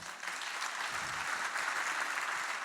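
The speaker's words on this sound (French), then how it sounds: "je vous demande de les applaudir très fort" An audience at a speech applauds researchers in a hall with sustained, dense clapping that stays loud and even throughout the short stretch, with no voices rising above it.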